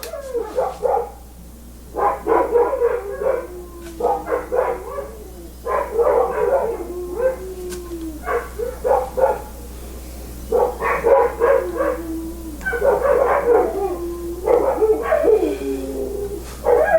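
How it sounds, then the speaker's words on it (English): Several dogs outdoors bark in repeated bursts with yips and a rising howl mixed in, moderately distant, under a steady low hum, with short quiet gaps between volleys. "One will start howling here in a second."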